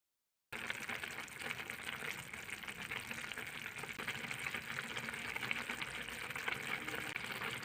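Water boils steadily in a pot on the stove while a kurdai bhuga dish is being cooked, a soft, even bubbling hiss that starts abruptly and runs alone at low volume.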